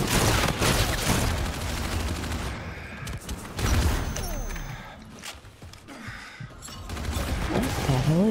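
Gunfire from a first-person shooter video game, dense bursts of shots and weapon clatter that run loud throughout, easing slightly midway before picking back up, with game sounds layered in.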